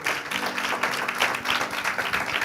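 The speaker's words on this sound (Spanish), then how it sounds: "Dele otro aplauso a Dios." A church congregation claps and applauds steadily throughout, a dense continuous patter of many hands.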